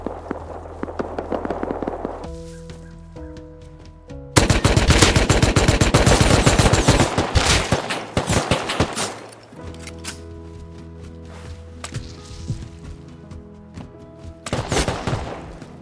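Rapid automatic gunfire in the video game Rust, dense sustained bursts of loud cracking shots separated by quieter stretches, with a final short burst at the end over a low game ambience.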